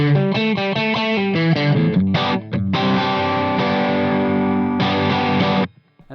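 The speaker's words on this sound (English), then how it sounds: "they also have a really amazing drive once you get them about halfway up their kind of volume" An electric guitar runs through a Vox Valvenergy Deluxe Reverb-style tube drive pedal, playing a quick run of driven notes and then sustained, saturated chords that ring out before cutting off abruptly.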